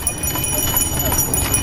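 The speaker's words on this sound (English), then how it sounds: "So, hey, hold on a minute, more horses." Horses' hooves clip-clop on the trail to Morskie Oko in the Tatra mountains of Poland, a close, steady rhythm of hoofbeats over continuous outdoor noise.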